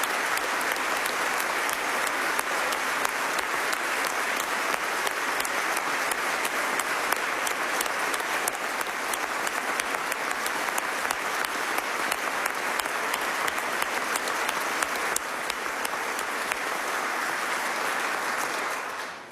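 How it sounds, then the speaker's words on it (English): Audience clapping for about twenty seconds at a steady, dense, sustained level before tapering off at the very end. "Well, you clap now"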